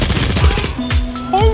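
A gun fires in the video game Battlefield 1, with a few short, punchy shots in quick succession mixed with voices.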